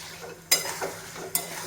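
Onions and spices stir-fried in a pan, with a quiet continuous sizzle broken by two sharp utensil scrapes against the pan, no voices.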